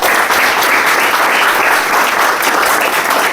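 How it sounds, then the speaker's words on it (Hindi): Loud, dense applause fills a hall for a speaker at a direct selling industry talk, a continuous even clatter of many hands with no voices over it. "एक जोरदार ताली इसके लिए।"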